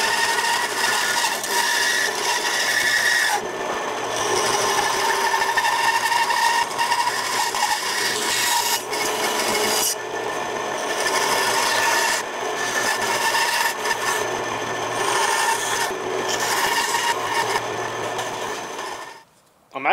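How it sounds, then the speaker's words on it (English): A blade carves and shapes a real fish into a shad glide-bait, making continuous close rasping and scraping strokes with brief pauses, then stopping abruptly at the end. "we're going to cut some of that real quick with the blade before we go to the belt sander."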